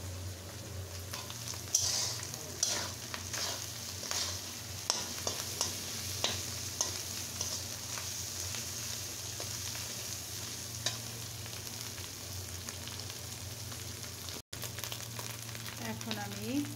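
A bhaji of flat beans, potato and onion stalks with prawns fries in a pan, giving a soft continuous sizzle with occasional stirring scrapes and taps, fairly quiet and close, with a brief dropout near the end.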